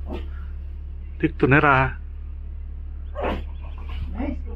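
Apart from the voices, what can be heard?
pug dog barking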